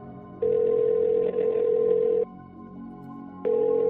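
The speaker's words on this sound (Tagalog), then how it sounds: "Nagri-ring lang." A phone ringing on an outgoing call, with two long electronic ring tones separated by a pause and a third ring beginning, loud and steady with no one talking.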